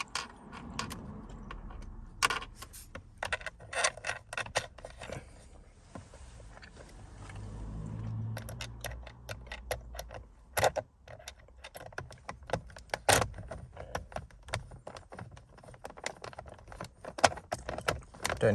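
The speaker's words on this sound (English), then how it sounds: "just place the mount in place and screw the screws back in" Screws are driven in to fasten a MagSafe phone mount inside a Mini Countryman R60, giving close metallic clicks, rattles and small knocks in uneven bursts, with a short lull midway and no talk.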